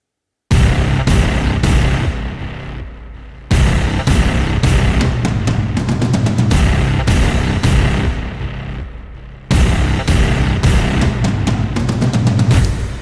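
A heavy drum kit with distorted rock guitars drives a dense, loud, continuous wall of sound, with brief breaks and crashing re-entries around four and nine and a half seconds, purely instrumental.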